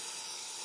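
Steam hisses from a vent in the Animatronix: Help Wanted video game, a short, loud, continuous broadband hiss that holds steady with no talking.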